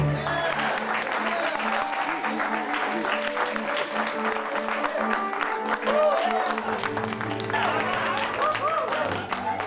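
Applause in a low-budget horror movie scene, sparse clapping with whoops and cheering from a few people, voices mixed in over a steady background.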